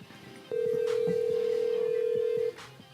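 A single steady phone ringtone tone sounds loudly for about two seconds as an outgoing call rings, alone with faint room noise before and after.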